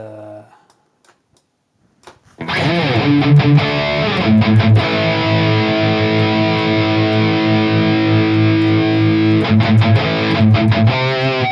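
Overdriven electric guitar through a green overdrive pedal on a Valeton GP200 kicks in after a brief quiet start, ringing out loud, sustained chords with a warm, gritty crunch that holds steady to the end.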